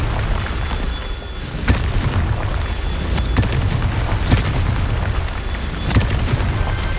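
Confringo blasting spells in Hogwarts Legacy go off as several sharp booming explosions over a rumbling combat background, loud and close.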